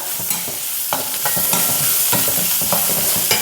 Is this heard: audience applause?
no